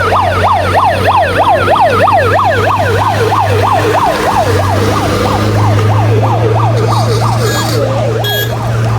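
An ambulance stuck in traffic on a Nepal highway between Kathmandu and Biratnagar wails with a loud, fast up-and-down siren sweep that repeats steadily, over a low engine drone, with no talking.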